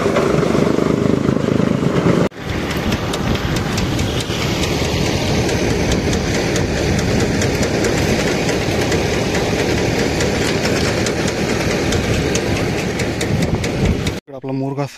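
A tractor-driven chaff cutter chops maize for silage on a farm, a loud, continuous mechanical roar with rapid rattling that runs unbroken nearby, briefly cutting out near the end.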